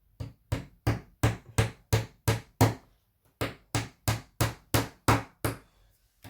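A small hammer taps a metal model-railway rail joiner in two quick, even runs of about ten sharp strikes each, separated by a brief pause, close and clear.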